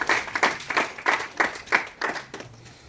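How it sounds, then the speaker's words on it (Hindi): Applause at a seminar: short bursts of clapping come in a steady series of about eight pulses across the clip, moderately loud, with no talking over it. "तालियां बजाएं।"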